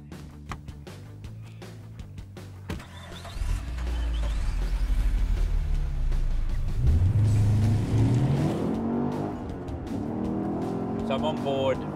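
An HSV 25th anniversary limited edition GDS car is driven, its engine note rising from a low rumble into a climbing rev before settling, heard from inside with a voice speaking over it.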